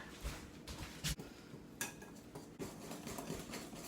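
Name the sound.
mixing chocolate cake batter by hand in a bowl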